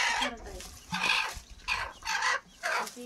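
A broody village hen, kept for setting on eggs, gives a run of soft, close clucks in short repeated bursts with brief pauses between them.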